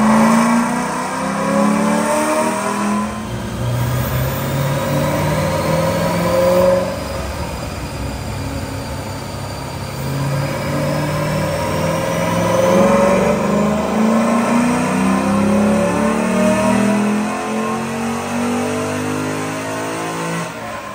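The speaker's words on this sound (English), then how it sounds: "Check out this dyno pull, then we're gonna talk about the numbers" A 2007 Mustang Shelby GT V8 roars on a dyno, revving steadily upward through the gears in one long loud pull, with pitch climbing and dropping at shifts over about twenty seconds.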